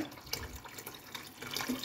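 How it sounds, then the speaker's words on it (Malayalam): Water from a mixer jar poured into a pot of Kerala-style fish curry, a soft brief trickle and splash, faint and close. "ഞാൻ ആ മിക്സി കഴിയ വെള്ളം ഇതിലേക്ക് ഒഴിക്കുന്നു"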